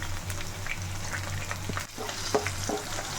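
Ginger and curry leaves sizzle steadily in hot oil for a Kerala sardine curry with mango, a close, continuous frying crackle with a few sharper pops and a brief stir near the middle.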